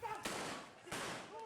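Police warning shots fired during a street clash between two groups of residents, two sharp reports ringing out about half a second apart over a noisy crowd with voices.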